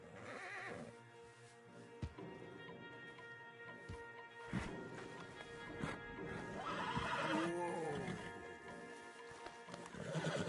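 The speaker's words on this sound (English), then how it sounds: "Marston, you're gonna tether him up to Javier's horse." A horse neighs loudly over clip-clopping hooves in a PS4 video game, with thuds and low rumbling throughout.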